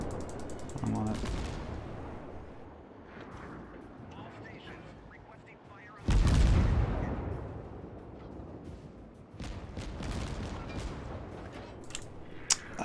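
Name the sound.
Kuma cruiser guns firing in World of Warships video game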